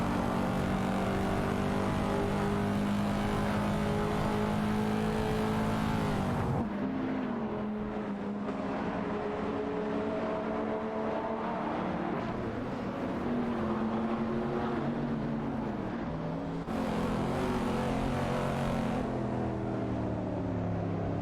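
Race cars in an AI racing video game roar past, sustained engine drones shifting pitch with abrupt cuts between cars, loud and continuous with no talk.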